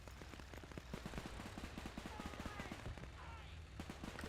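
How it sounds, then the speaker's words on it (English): A StuG assault gun's machine guns fire in the game Men of War II, rapid rattling bursts repeating over dense battle noise, with a voice talking quietly beneath. "here the machine guns on the Stuck is very helpful"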